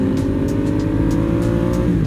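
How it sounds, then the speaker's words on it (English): A Ducati Diavel 1260 motorcycle engine on the road, a steady loud low drone with a constant mechanical hum and a few faint higher ticks, close and continuous with no talking. "Papa Bear is on the Lamborghini Diavel 1260, and damn, does he look good"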